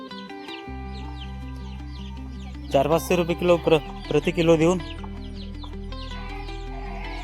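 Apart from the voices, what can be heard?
desi free-range chickens clucking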